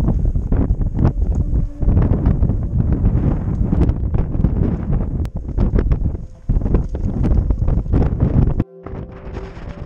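Strong wind buffeting the microphone on a Connemara mountain, loud continuous roaring gusts with brief lulls, close and alone.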